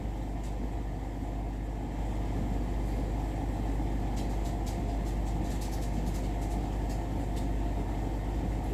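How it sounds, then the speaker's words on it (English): A home dishwasher runs in a kitchen, a steady low mechanical rumble and hum with faint intermittent clicks and rattles, continuous and fairly loud throughout, with no talk. "Sorry about the noise. I got the dishwasher going too."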